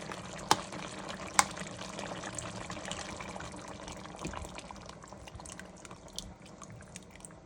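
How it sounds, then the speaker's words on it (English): A pint of heavy whipping cream poured into a pan, a soft steady liquid flow with a couple of sharp clinks near the start, close and fairly quiet. "So first we're going to go in with heavy whipping cream. So I have a pint right here."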